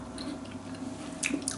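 A few crisp crunching bites into a fresh acorn, close up and fairly quiet, with a sharper crunch near the end.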